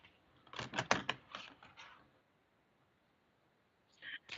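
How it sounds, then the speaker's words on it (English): Avalon Wisdom oracle cards being shuffled at close range, a quick burst of crisp riffling taps for about a second and a half, then quiet, then a brief second flurry. "I'm shuffling the Avalon Wisdom cards."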